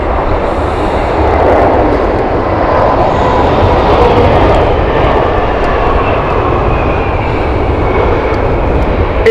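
An airliner lands at Heathrow Airport in a strong crosswind, its engines giving a loud, steady, broadband roar that holds close and unbroken throughout, with no voices.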